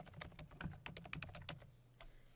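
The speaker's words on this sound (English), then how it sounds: "So suppose I type in something like this." Keys clatter on a computer keyboard in a quick, uneven burst of distinct close clicks, a dozen or so strokes in a couple of seconds, fairly quiet, with no talking.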